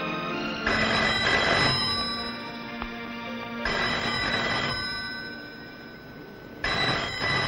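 A telephone rings in repeated bursts, three distinct trills spaced a few seconds apart, fairly loud and alone in an indoor setting.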